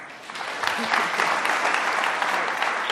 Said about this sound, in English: I want to give a good round of applause to our speakers.